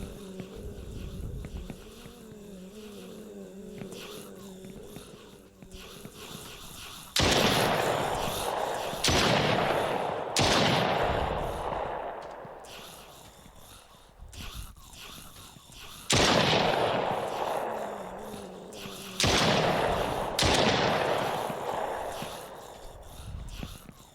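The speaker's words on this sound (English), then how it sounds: "These guys are shooting the zombies in there." Soldiers shooting zombies in an Unreal Engine 4 horror game, several loud bursts of gunfire in separate volleys, each trailing off into echoing decay, with quieter ambience between.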